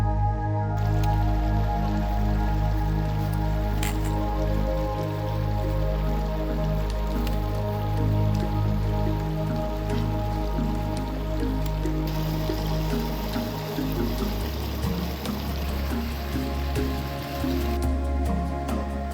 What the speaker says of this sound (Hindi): इस घाटी में भी रास्ते पर कई पानी की धाराएं बह रही थी